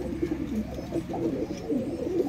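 Pigeons coo in low, rolling murmurs, several birds overlapping in a steady, close chorus with no talk over them.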